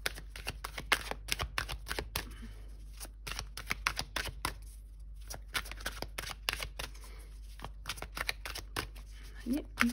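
Oracle cards are shuffled in rapid, crisp riffling bursts with short pauses between, close to the microphone, while a person speaks softly at times.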